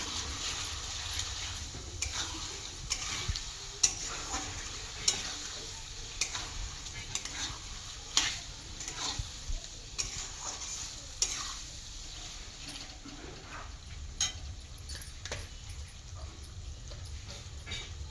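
Rice with turmeric and spices, Gobindobhog rice for tehari, sautéed in a pan, giving a steady soft sizzle with repeated scraping and clicking stirs throughout, no voices.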